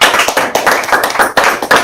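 A live audience at a creator talk claps together in a dense, loud burst of many hands, close and continuous, with no voices over it.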